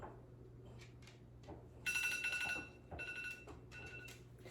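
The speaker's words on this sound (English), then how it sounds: "those are my timers for when things are done cooking" Kitchen cooking timers go off in bursts of bright electronic ringing, a long ring followed by shorter ones, fairly faint over quiet room noise with no talk.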